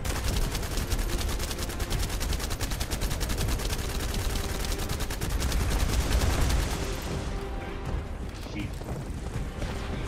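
Sustained rapid gunfire in the video game The First Descendant keeps up heavy, continuous bursts for most of the stretch, then cuts off toward the end, with a voice speaking amid the shooting.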